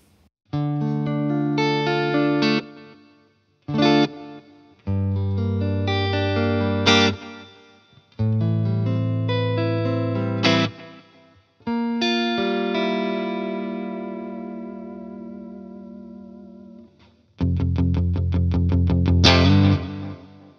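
An electric guitar plays through a Kelt Bobcat amplifier with reverb and an Anna Sounds Utopia delay in the effects loop, with no compressor. Loud, driven chords and phrases come in bursts with short pauses, each ringing out with trailing echoes.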